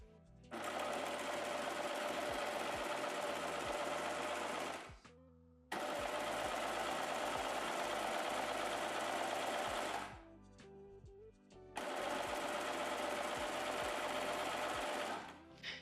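A Baby Lock sewing machine runs stitching swimwear elastic in three long bursts, each several seconds of steady, close, loud whirring separated by short pauses.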